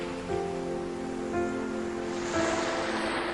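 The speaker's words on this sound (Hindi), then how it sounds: "समुद्र की आवाज" Steady broadband wash of sea waves, a continuous surf-like hiss with slight swells, alone with no voices, under a faint sustained musical drone.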